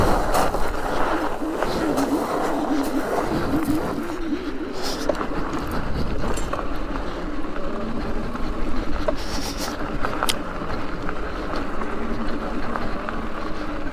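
A DISC e-bike crossing soft desert sand, a continuous rough, gritty rumble of tires churning and bumping over loose ground with wind noise, steady and close throughout.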